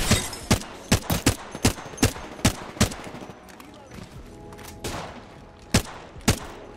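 Rapid gunfire in Apex Legends, a string of sharp, loud shots in uneven bursts, some close together and others spaced out, with a few more cracks near the end over background game noise and some talking.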